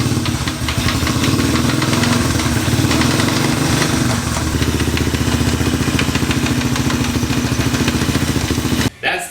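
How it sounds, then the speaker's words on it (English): A big bore Honda CT90 trail bike runs in fourth gear with a faulty transmission, its engine loud and close with a steady knocking, uneven churn throughout, cutting off abruptly near the end. "That's the sound of transmission problems"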